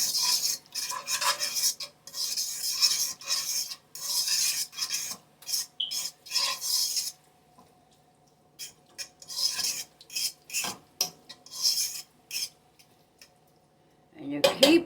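Metal spoon stirring sofrito in a pot on a low stove, a run of close scraping and clinking strokes that pauses midway and then resumes in short bursts.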